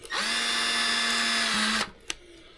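A handheld electric drill runs at high speed while working on a Traxxas Mini Maxx RC car. It whines loudly and steadily for nearly two seconds, then cuts off, leaving a brief click.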